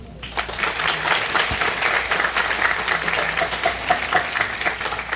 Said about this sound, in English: Please give a round of applause to all parents.